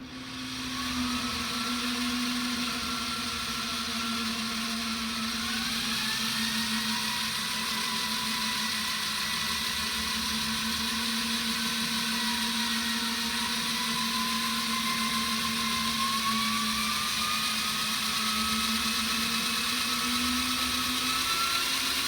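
Power drill spinning an iSta Breeze i500 wind turbine on a bench test, a steady loud whirring drone with a constant hum and slight pitch drift, running continuously with no talk.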